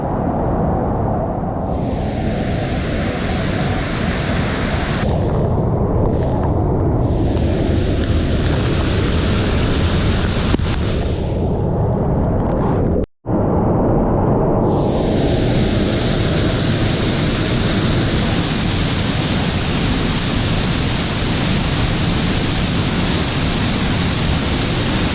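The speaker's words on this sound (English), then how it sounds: "now we have reached one of the bigger waterfalls" Large waterfall in Wadi Mujib gorge, Jordan, roaring loudly and steadily as close, dense rushing water that fills the whole scene, with one brief dropout midway.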